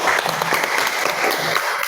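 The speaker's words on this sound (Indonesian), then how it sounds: "Kasih tepuk tangan" Classroom applause from a group of schoolchildren, a dense steady clatter of clapping hands that fills the whole moment at even loudness, with a few faint voices mixed in.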